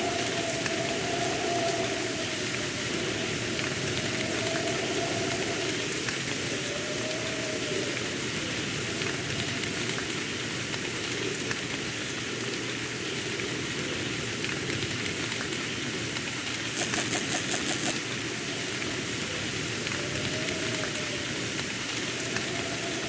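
Rain in the game The Moon Silver, a steady, soft wash of falling drops on a wild, cold night, continuous and even throughout with no voices.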